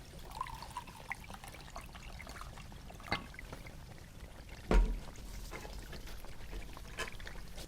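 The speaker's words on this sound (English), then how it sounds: "A little fast forwarding and then time to refill the coffee." Coffee poured into a cup for a refill, a steady close trickle of liquid running throughout with a brief louder clunk midway, no talking.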